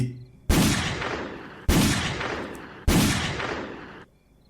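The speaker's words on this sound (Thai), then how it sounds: "นายพรานมือฉมังลั่นไกสามนัดติดต่อกัน" Three loud hunting-gun shots fired one after another at roughly even intervals, each a sharp crack trailing into a long rolling echo that fades before the next.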